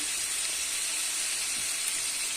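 Food frying in a pan with no oil added, tomatoes among it, gives a steady, close sizzling hiss throughout, continuous and even with no talk over it.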